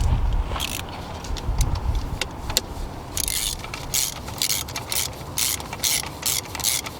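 Ratchet clicking in short bursts as 12mm valve cover bolts are tightened down on a Toyota 2JZ engine, close and fairly quiet, with gaps between runs of rapid pawl clicks.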